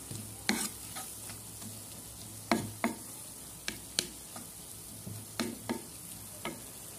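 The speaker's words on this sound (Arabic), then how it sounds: "نزيد الزبيب نحرك مزيان ونخليهم يزيدوا يتعسلوا" Onions and raisins caramelizing in a pan for a fish and potato tagine, stirred with sharp, irregular spoon scrapes and taps over a faint low sizzle, close up with no talking.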